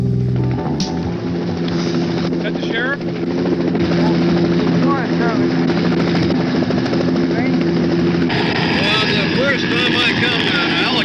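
A helicopter's loud, continuous rotor and engine drone near the devastated Highway 504 area by Mt. St. Helens, steady throughout, with voices talking over it.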